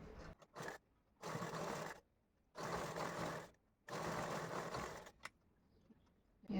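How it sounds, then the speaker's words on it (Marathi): An electric sewing machine stitches a sleeve in three sustained whirring bursts of roughly a second each, separated by short quiet pauses with faint handling clicks, close and moderately loud. "ह्याच्यावर आपण शिलाई मारून घेऊया म्हणजे जेणेकरून हे आपले जे धागे वगैरे आहेत ते आतमध्ये जातील"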